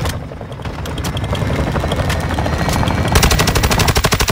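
Rapid bursts of automatic gunfire aimed at a helicopter in the video game Call of Duty Warzone, loud and continuous, with the rhythmic chop of rotor blades and heavier firing growing toward the end.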